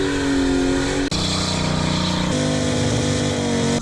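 A car doing a burnout in a makeshift burnout box in Wakefield, its engine roaring loud and sustained at high revs, the pitch stepping up twice as it holds near and continuous.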